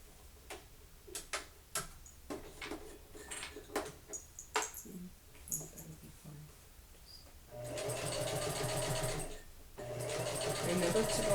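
A sewing machine stitches across a waistband seam, first in short stop-start bursts of needle ticking, then in two longer steady runs near the end.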